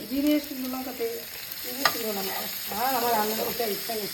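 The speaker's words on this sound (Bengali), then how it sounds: "পেঁয়াজ এখানে ভাজা হচ্ছে" Onions frying in a pan hiss softly and steadily in the background while people talk over them with animated voices throughout.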